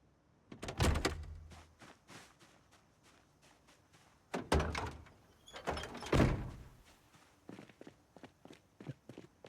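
Animated doors, trunks and hoods opening and closing on modded cars in Project Zomboid, several separate thunks and slams with softer footstep-like shuffles between them, close and clear in otherwise quiet surroundings.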